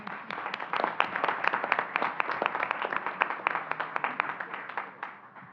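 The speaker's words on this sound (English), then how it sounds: "I'd like to us to give her a round of applause" Applause at a town council meeting in Altadena, a room full of people clapping steadily for several seconds at moderate loudness before it tapers off.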